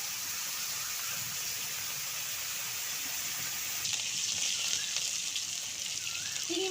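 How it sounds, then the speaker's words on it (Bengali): Prawns sizzling in well-heated oil for a Bengali dish, a steady hissing fry that grows louder and crackles more sharply partway through. "তেলের মধ্যে দিয়ে দিচ্ছি আমি চিংড়ি মাছ। চিংড়ি মাছটা লাল লাল করে ভেজে নেব।"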